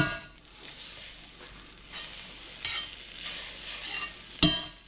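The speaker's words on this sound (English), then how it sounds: "take this butter, turn it down just a wee bit, throw that in there." Fat sizzles steadily in a hot pan with occasional scraping and a sharp clack near the end, no voices.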